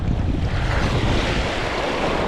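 Strong wind coming down off a mountain roars steadily against the microphone on a rugged coastline, mixed with a broad wash of surf, loud and unbroken.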